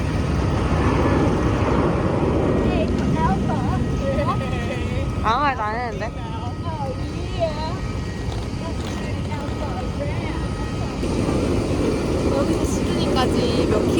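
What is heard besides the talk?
airplane engine noise while boarding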